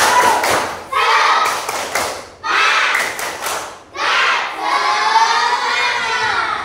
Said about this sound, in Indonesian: yang lebih semangat lagi, tepuk semangat